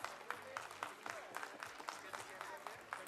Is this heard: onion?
no